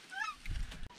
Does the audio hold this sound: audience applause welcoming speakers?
no